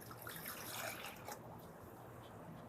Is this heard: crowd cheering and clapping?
no